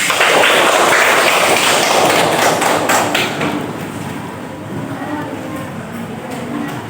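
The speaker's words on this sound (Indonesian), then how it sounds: "tepuk tangan untuk kita semua." Audience applause at a mathematics lecture session, a dense wash of many hands clapping loudly from the start, thinning and softening after about three seconds while a few scattered claps continue.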